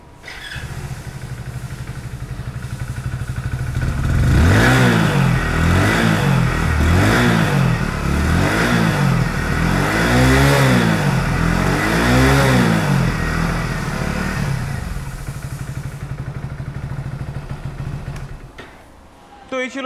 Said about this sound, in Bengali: তো এবার এই বাইকটার সাউন্ডটা একবার আমরা শুনে নেব।